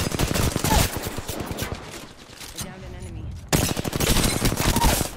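Peacekeeper shotgun fire in Apex Legends, with loud clusters of rapid shots at the start and again after a short lull in the middle, mixed with other close gunfire and brief talk.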